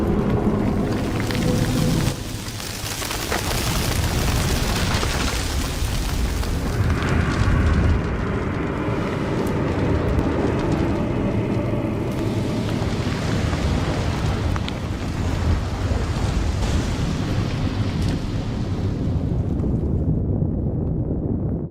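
A massive fiery explosion engulfs the Elden Throne in the Elden Ring video game, a sustained deep roaring rumble with crackling fire that swells and dies away over about twenty seconds.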